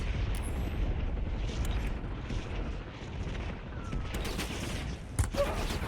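Gunfire in the video game Warzone, a dense stream of distant shots and muffled booms running throughout, with a louder burst near the end.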